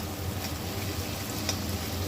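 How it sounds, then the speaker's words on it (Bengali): Chopped capsicum and tomato frying in a pan after browned onion, a low steady sizzle with a faint hum beneath, brief and quiet. "ক্যাপসিকাম আর টমেটো কুচোটা ভাজতে ভাজতে"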